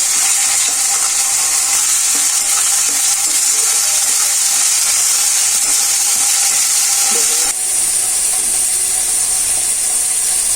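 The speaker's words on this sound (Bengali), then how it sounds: "মশলাগুলো ভালোভাবে ভেজে নিতে হবে।" Spices and onion paste frying in a pan for muri ghonto made with a large fish head, a loud, dense, continuous sizzle close up with faint scraping of stirring throughout.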